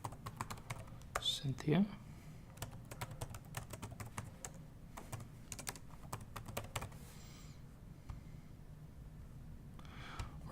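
Computer keyboard typing while database credentials are entered during a software install, a steady run of quick close clicks with someone talking over them throughout.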